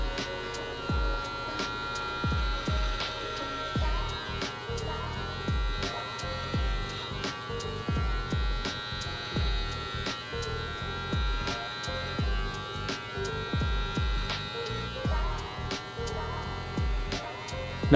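A Brio beard trimmer runs with a steady electric buzz throughout while trimming a beard, with faint scraping pulses as it moves through the hair and occasional quiet speech.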